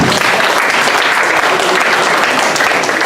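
An audience claps at a campaign event against cultism and drug abuse, with dense and steady applause filling the room up close for a few seconds and no voices standing out.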